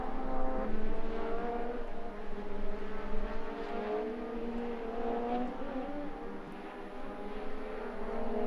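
A race car engine drones steadily at a distance on a circuit, its pitch wavering as it laps, a continuous motor hum with no talk over it.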